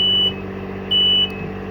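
Two steady, high electronic reversing beeps from a tracked boom lift, about half a second apart, over a low, constant engine rumble.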